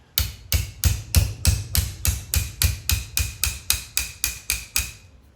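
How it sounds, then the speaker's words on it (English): Steady run of about seventeen sharp metal hammer blows, evenly spaced and close, driving a door handle rod through its spring on a Celica during a 3SGE Beams engine swap; no talking. "you should be able to hammer it all the way through the spring"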